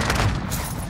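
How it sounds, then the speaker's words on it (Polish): A precision airstrike explosion in Call of Duty: Modern Warfare, a dense, loud low-frequency rumbling blast that fills the whole brief moment. "Nadciąga sojuszniczy nalot precyzyjny, ostrożnie!"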